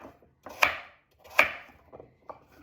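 A kitchen knife cubing food on a cutting board during dinner prep, two crisp, close chops about a second apart followed by lighter, softer cuts.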